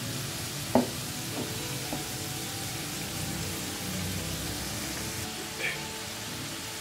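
Amla gooseberries frying in a pan for a village-style pickle, giving a soft, steady sizzle with a few faint clicks and stirring knocks, moderately quiet and close throughout.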